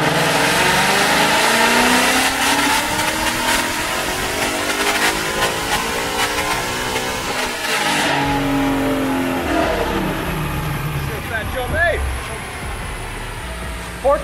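A bolt-on E85 Mustang GT V8 revs hard on a dyno in one long, loud pull. The engine note sweeps upward, then drops off, and faint voices come in near the end.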